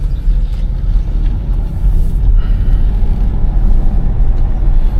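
A 1997 BMW 850ci drives along with a steady, loud low engine and road rumble that holds evenly throughout, with no voices over it.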